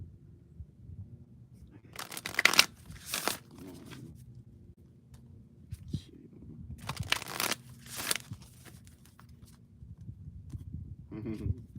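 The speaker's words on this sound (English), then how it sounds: "Rover, how many times should I shuffle?" Oracle cards being shuffled in two quick bursts of riffling, with soft handling and tapping sounds between them, close by.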